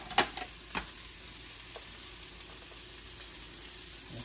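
Carrot and capsicum fry in a pan with a steady, hissing sizzle, opened by a couple of quick utensil knocks and then carrying on evenly.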